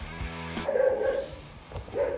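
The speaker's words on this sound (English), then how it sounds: "Sorry about my dog barking in the background." A dog barks indoors a few times in the background, sharp yips at moderate distance spaced irregularly over a quiet room.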